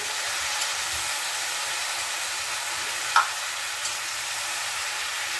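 Chicken pieces stirred into softened onions in a hot pan for pepper chicken produce a steady, even sizzle and hiss, with a couple of faint utensil clicks along the way.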